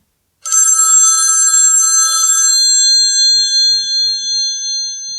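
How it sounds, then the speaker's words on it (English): An old-style telephone bell rings loudly and continuously, then the ringing fades out in slow pulsing waves, heard alone with no voices. "suddenly the telephone rang"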